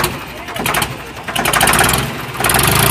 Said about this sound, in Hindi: तो दर्शक भाई ये आवाज है ट्रैक्टर की।